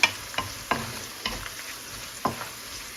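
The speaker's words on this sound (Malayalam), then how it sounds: "ഇളക്കി കൊടുക്കാം" A spoon scrapes and stirs spices through bitter gourd pickle in a pan with the flame off, giving a series of sharp clinks and scrapes at an uneven rhythm over a faint sizzle of oil, close and clear with no talking.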